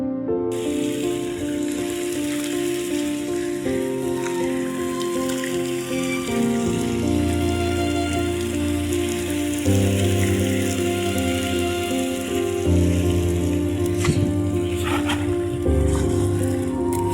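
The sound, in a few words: rain falling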